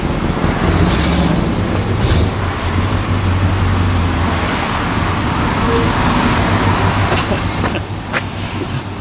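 A 1962 Chrysler 300 with a smoky, worn engine drives on the road, a loud continuous engine and road rumble heard from inside the car with a low steady drone throughout.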